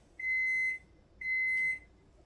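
Two matching electronic beeps come from a kitchen oven as it signals that preheating is done. The tones are steady and clear, each lasting about half a second, with a short gap between them.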